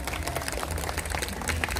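A large audience at the Taman Safari Indonesia owl show claps in a dense, even burst of applause, moderately loud and continuous for a brief stretch.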